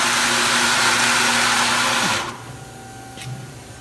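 A newly fitted machine coolant pump sprays fluid under pressure with a loud, broadband hiss, then cuts off abruptly, leaving a low residual hum and a brief trickle.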